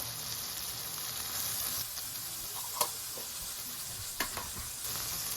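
Pasta ingredients, seasoned with salt and pepper before shrimp go in, sear in a hot pan with a soft steady sizzle and hiss, punctuated by a couple of sharp utensil clinks.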